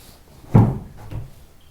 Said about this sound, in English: Almost like the first time you didn't have the door completely, the knob turned.